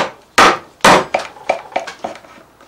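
A steel chisel is struck with a mallet while chopping a mortise in wood: two loud, sharp blows followed by a quicker series of five or six lighter taps, close up and with no voices.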